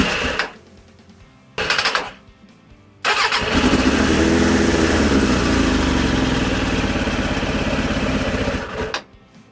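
Motorcycle engine with its spark plug just refitted: two brief cranking bursts, then it catches and runs at a steady loud idle for several seconds before cutting off, up close.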